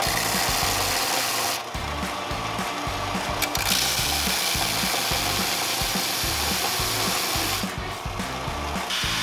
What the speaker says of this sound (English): we put it on the sander and we cut the grooves into the corners to give it a rounded look